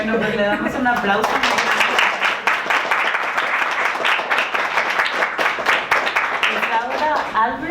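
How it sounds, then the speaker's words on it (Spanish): Sustained applause at a feminist criticism seminar reading letters, dense and close with voices talking and calling out over the clapping throughout. "pues le damos un aplauso"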